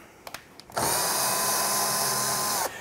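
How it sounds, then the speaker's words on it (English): A few light clicks, then a power drill whirs steadily at high speed for about two seconds, drilling holes in a sink cabinet, before stopping, close by and loud. "So again, using a power drill,"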